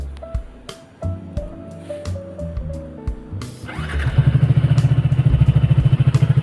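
A Yamaha R15 V2 motorcycle sits with a few clicks and tones while its electrics are switched on, then the engine starts and settles into a loud, close, steady idle.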